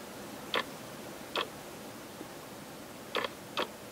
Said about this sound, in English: I'll start with the ratcheting wrenches, and this is a Jones Way model here.